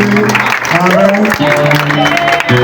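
A church congregation at an evening prophetic mission service in Libreville claps in a dense, continuous burst of applause, loud and close, with voices calling out over it.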